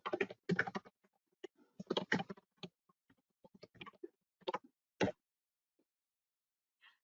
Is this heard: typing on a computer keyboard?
yes